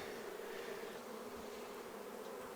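Honey bees buzz around a hive box after their colony has been condensed into a single box, giving a steady, continuous drone that stays even throughout, with no voices.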